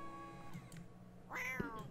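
Sims cats in The Sims 4 Cats & Dogs give a couple of meows, a short one early and a louder, drawn-out one near the end, over quiet game ambience.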